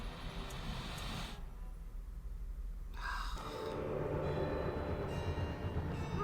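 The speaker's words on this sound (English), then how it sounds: "My Lizzie, what is this train's destination?" Train running in a video game, a steady low rumble and rattle of the carriages with a quieter, hollow stretch in the middle before the rolling noise swells back up.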